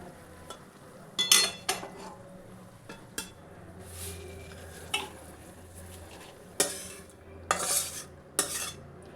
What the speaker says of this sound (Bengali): এটা কিন্তু আমি ঢেলে দিচ্ছি এবার।